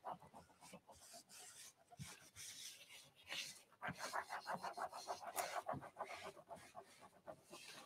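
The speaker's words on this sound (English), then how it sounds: "Just going to wipe back this wax." Wax being wiped back with a cloth on painted thrift-store furniture, giving close, soft rubbing strokes in an uneven rhythm that grows denser and louder toward the end.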